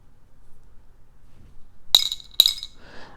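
Two sharp, bright clinks of small glass beads knocking together as they are handled, close and distinct after near silence, followed by a faint rustle.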